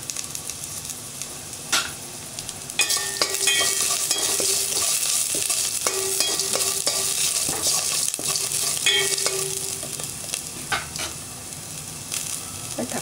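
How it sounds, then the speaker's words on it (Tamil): Onion, garlic and green chilli sauté in a pan for a manathakkali keerai kuzhambu, a loud continuous sizzle with stirring scrapes and clinks, close by and uninterrupted by speech. "வெங்காயம் வதங்கட்டும். பூண்டு பச்சை மிளகாய் போட்டுக்கலாம்."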